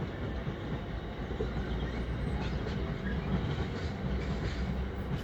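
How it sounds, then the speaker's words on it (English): A freight train rolls past close by, a steady heavy rumble with a faint rattle of wagons that holds at the same loudness for the whole stretch, with no voices. "Yeah, it's one of the freight trains."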